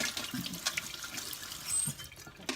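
Tap water runs steadily over strawberries being rinsed before making a lemonade, a moderate, continuous splashing wash with a few brief spikes, and no voices.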